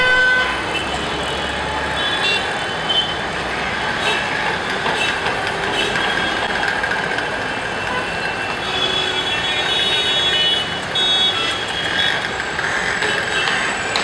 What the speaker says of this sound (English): I posted like a quick video of what's it like on the busy Mumbai streets